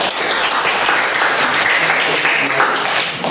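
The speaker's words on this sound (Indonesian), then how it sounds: "tepuk tangan untuk Tiara" Classroom audience applauding a student named Tiara after her summary in an Islamic studies lesson, a steady, dense patter of many hands filling the whole stretch at close range, with faint voices mixed in.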